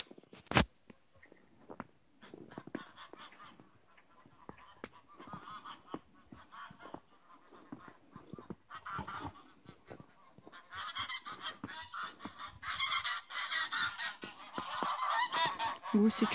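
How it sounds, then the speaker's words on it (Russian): Geese in a snowy rural yard honk repeatedly, the calls starting sparse and growing louder and more agitated as the flock gathers together, with rustling noises between the calls. "Гуси что-то начали волнение."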